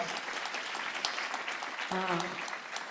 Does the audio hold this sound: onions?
no